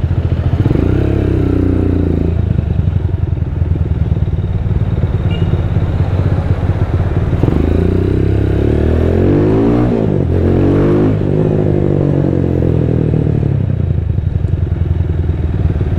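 A Diablo motorcycle fitted with an Orion muffler rumbles loud and close while riding, its engine note holding steady and then revving up and settling back down near the end.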